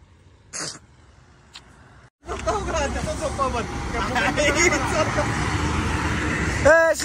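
A sleeper bus pulls up amid busy road traffic at night, its engine rumble and road noise loud and steady after a brief quiet, with people talking and a horn-like tone near the end.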